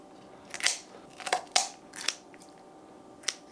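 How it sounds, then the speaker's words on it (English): Kitchen shears snip through a raw chicken's backbone in about six short, crisp crunching cuts, spaced unevenly and heard close up against a quiet background. "we're going to take our kitchen shears here on either side and cut right through it"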